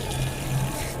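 Water runs steadily from a tap at a temple entrance as feet are washed, a close, continuous splashing flow.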